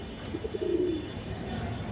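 A single pigeon gives a short, low coo, a few soft notes running into a brief warble, close by over quiet background hiss.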